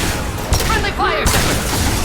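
Mass Effect 2 combat gunfire during Mordin's loyalty mission: dense overlapping shots and bursts crackle loudly throughout, mixed with brief game voice chatter and effects.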